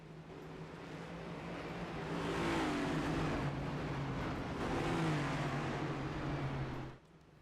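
Race cars rumble together at Daytona as the field picks up speed for green flag racing, a sustained engine drone with rising pitch sweeps that swells, holds loud for several seconds, then drops away abruptly near the end.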